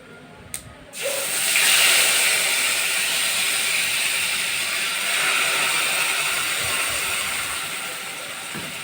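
Ginger, green chili and tomato paste hit a hot pan with a sudden loud hiss after a faint clink, settling into steady bright sizzling that fades slightly over several seconds, with no talking.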